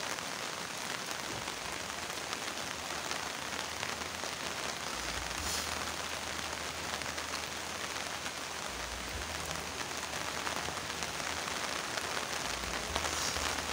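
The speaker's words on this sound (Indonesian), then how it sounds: "Langsung terjang terus hujan." Steady rain pours down in a dense, even hiss over the full length, with low rumbling gusts underneath and no voices.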